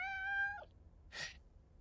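A cat in a city builder video game lets out one short, clear meow, followed by a soft breathy puff, faint and alone.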